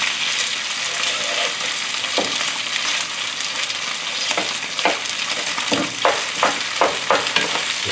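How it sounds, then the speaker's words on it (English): Thick rice noodles and mixed vegetables stir-fried in a hot wok, a steady loud sizzle with scraping and clinking of the spatula that grows sharper and more rhythmic toward the end. "So stir fry the rice noodle."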